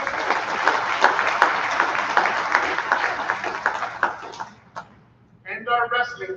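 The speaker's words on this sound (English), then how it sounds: "Big round of applause for the cross-country team." An audience at a school athletic awards program applauds for several seconds, a dense steady patter that fades out before a brief voice returns.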